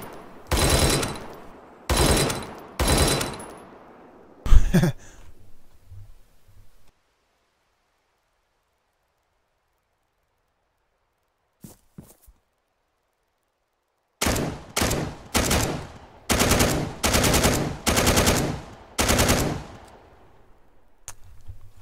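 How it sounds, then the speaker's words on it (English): Machine gun fire in the military shooter Arma 3, loud rapid bursts in several clusters, a long silent stretch in the middle, then more sustained automatic volleys. "Machine gun."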